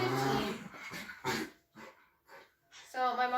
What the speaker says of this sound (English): is a bichon frise dog